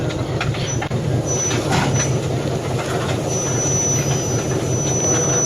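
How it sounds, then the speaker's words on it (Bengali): A slow-moving railway ballast train rumbles steadily close by while dumping stones on the track, with a continuous grinding roar and a faint high metallic squeal, no voices. "প্রচণ্ড স্লোভাবে আসছে সমানভাবে পাথর পড়ছে"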